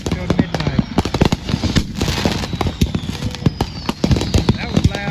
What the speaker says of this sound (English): Best fireworks ever.